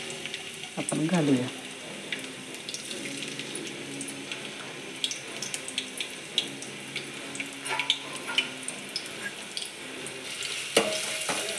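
Chopped onion is dropped into well-heated oil for a fish curry, setting off a brief loud crackle that settles into a steady, soft sizzle with light stirring clicks under a woman's occasional speech.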